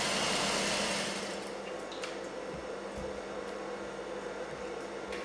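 A sewing machine stitches the corner of a blouse fabric in a steady whirring run, loudest at first and then settling into a slightly quieter continuous hum with faint clicks and no speech.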